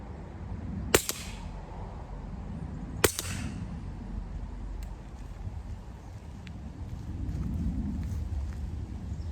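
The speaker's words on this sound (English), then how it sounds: "I am going to shoot for on the square target," An AEA HP SS .30 caliber air rifle fires twice at a square target outdoors, each shot a sharp, close crack spaced about two seconds apart, over steady wind and background rumble.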